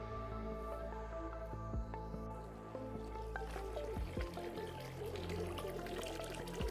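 Water trickling and pouring steadily from a mountain stream on the Paithalmala trek in Kannur, a continuous close splashing flow with no talk.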